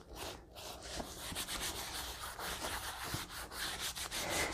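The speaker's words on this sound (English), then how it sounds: "I'm just rubbing in the wax, and you can see on the edges there where it's really scuffed up" Wax being rubbed by hand into the scuffed edges of a vintage leather purse, a steady close-up scrubbing and rubbing texture running continuously without pause.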